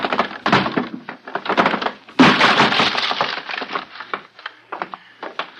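A door being smashed open by force, splintering wood and cracking with glassy breaking, a rapid series of loud close blows and crunches that build to a heavy burst, no voices over it.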